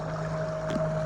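Homemade electric motor pushing a fishing kayak at full speed on the open ocean, a steady faint whine with a constant tone under low water and wind noise, brief and unbroken.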